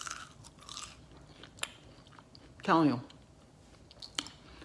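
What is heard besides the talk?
chewing crunchy frozen French fries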